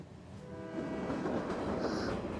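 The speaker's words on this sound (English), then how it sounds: "It's really the train that's moving, Caillou." An animated cartoon train pulls out of the station, its rumble and rhythmic rolling swelling up from quiet to a steady level, with a high tonal whistle note appearing near the end.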